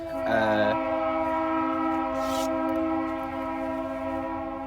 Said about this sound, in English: Sorry about the train. I actually live close to a train.